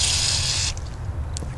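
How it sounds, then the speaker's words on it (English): Carb cleaner sprayed into a snow blower carburetor, a loud continuous close-up hiss lasting under a second, then breaking off into faint sputters and drips over a low background rumble. "Spray it out with some carb"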